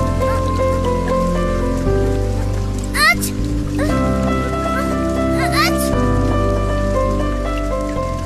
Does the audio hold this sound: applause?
no